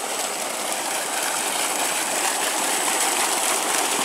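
Water gushes hard and steadily from the outlet of a 10 HP motor pump run by an 11 kW solar array of sixteen 540-watt panels, a loud, continuous roar with no pauses.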